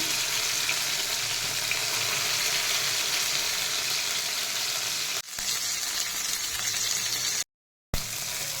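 Masala-coated fish frying in oil, a constant dense sizzle close by that cuts out briefly near the end before resuming.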